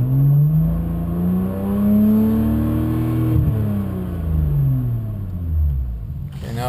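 A BMW 135i with an HPF prototype exhaust revs up, its deep rumbling note climbing and easing off in smooth swells, loud and close, heard from inside the car.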